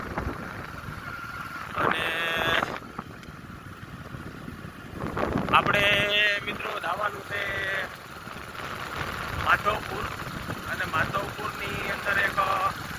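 Goats bleat in short, wavering cries at intervals outdoors near a coastal village, some closer and louder than others, over steady wind rumble on the microphone.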